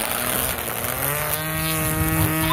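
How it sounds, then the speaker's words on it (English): A grass-cutting machine runs steadily in a backyard during cleanup, its small engine droning with a buzzing whine that shifts slightly in pitch, close and continuous without talk. "Let's first use the machine to cut grass."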